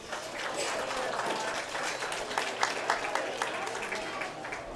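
Applause at a county fair pig show for the exhibitors, a moderate crowd clapping steadily in a loose patter with some voices mixed in.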